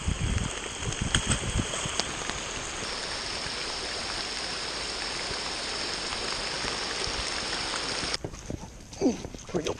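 Heavy rain pouring down during a fishing trip, a dense, steady hiss of downpour loud and close for most of the stretch, then cutting off into quieter handling sounds near the end.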